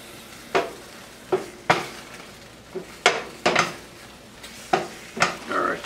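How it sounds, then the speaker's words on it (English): Garlic, thyme, lentils and mushrooms are stirred in a pot, with about a dozen scraping, clinking spoon strokes in an uneven rhythm over a soft sizzle, heard close up. "stir this all up until we get some fragrance off of it"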